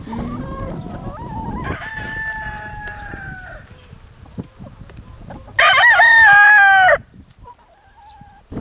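Backyard chickens cluck and a rooster crows loudly up close in a free-range farm setting, with several drawn-out crows and bursts of clucking.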